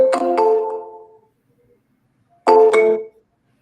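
A phone line tone on a call that is not being answered, with the receiver seemingly off the hook: two loud electronic bursts separated by about a second of silence.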